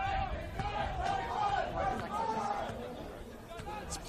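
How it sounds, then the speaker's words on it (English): A Playford City home crowd at a soccer match against Adelaide City, a steady murmur of chatter and calls that stays under a commentator's talk throughout. "This Playford City crowd still up and about"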